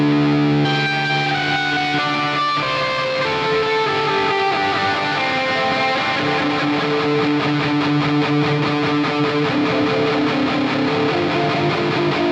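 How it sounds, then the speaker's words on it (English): A fuzzy, heavily distorted electric guitar, delay placed before fuzz in a shoegaze setup, plays sustained chords with echoing repeats smearing each note into a thick, washy wall of sound. "a sort of shoegazy patch with the delay before the fuzz."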